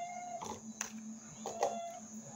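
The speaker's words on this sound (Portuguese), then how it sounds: "já tá miau, miau, miau" A pet cat meows indoors at a kitchen meal, giving a few short, moderately loud cries over a steady electrical hum.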